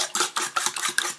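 Utensil whisking oil, sugar, eggs and vanilla together in a bowl for a traditional Algerian sweet: quick, close scraping and clinking strokes in an uneven rhythm, with no one talking.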